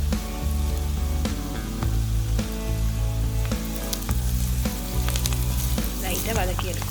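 Tinned fish sizzles with onion and green chilli in a hot pan, a continuous frying crackle with occasional stirring scrapes, close and loud over a low musical bed.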